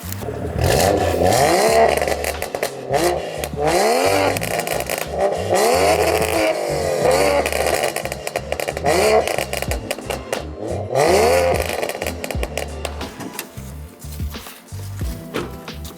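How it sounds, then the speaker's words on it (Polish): A BMW M2 fitted with an Armytrix full exhaust system gives a loud, deep engine note that rises and falls in repeated revving sweeps, close by, with rasping, crackling texture and no talking. "Jest po prostu pełny układ wydechowy firmy Armitrix, który brzmi zajebiście."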